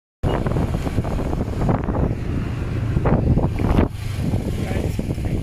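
Riding a Grab motorcycle taxi in Medan brings a constant roar of wind buffeting the microphone over the low rumble of the moving bike, with no talking.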